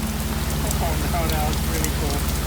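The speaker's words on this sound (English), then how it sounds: "The rain is feeling really cold now." Steady rain pattering on a sailboat's deck and rigging, a dense continuous hiss over a low rhythmic engine-like hum, with a few faint voices underneath.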